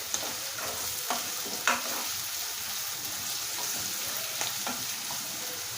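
Onions with green chilies and salt frying in a pan while being stirred, a continuous moderate sizzle broken by several light scraping and tapping strokes of the spoon, close by and without talk.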